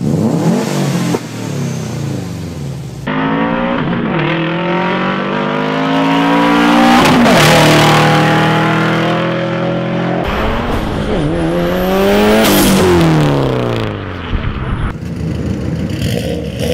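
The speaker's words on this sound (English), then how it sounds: "one of the best, if not the best, sounding 4-cylinder engines ever made." A Subaru Impreza four-cylinder boxer engine revs hard through repeated rising sweeps as gears change, loud and close, with brief tire squeal between pulls.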